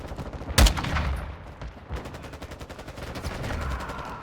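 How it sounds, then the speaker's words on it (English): Gunfire in Modern Warfare 2 from the Bruen .45: one loud close shot followed by rapid bursts of automatic fire and distant shooting, with a player's voice faintly in the mix. "gun sounds fucking good though"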